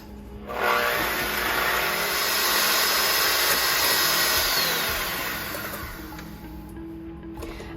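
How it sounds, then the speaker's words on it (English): An electric mixer beats egg whites for a spiced tapioca pudding, a steady whirring drone that starts abruptly, holds fairly loud for several seconds, then eases off slightly, with no talking. "first we want to beat the whites a little bit before we add our sugar"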